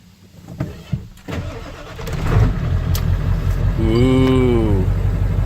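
A Ford 7.3L Powerstroke diesel cranks over and fires up after glow-plug warm-up, settling into a loud, steady rumbling idle close by, with a whining tone rising near the end.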